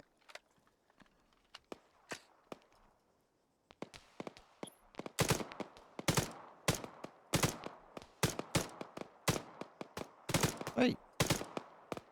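Gunfire in the Antistasi mode of Arma 3: a quiet lull of scattered single shots, then a dense run of loud, sharp bursts and repeated cracks from about four seconds on, with a brief spoken word early.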